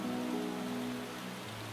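Rain falling in the video game Luma Island, a steady dense patter of drops on the ground with a faint music drone underneath.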